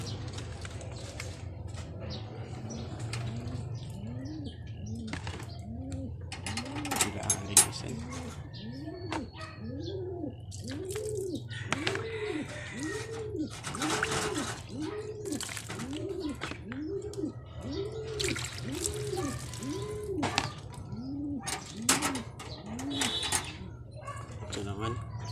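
Racing pigeons coo in a steady repeating series, close by, with faint rustling and occasional voices in the background.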